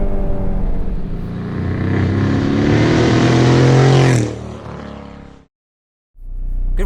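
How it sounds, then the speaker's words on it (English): A 1991 Nissan Sentra SE-R engine revs loudly and close by, its pitch climbing steadily for about four seconds, then dropping away into a lower idle before cutting off and briefly restarting. "this is a 1991 Nissan Sentra SE-R that Juan has, I think, expertly built"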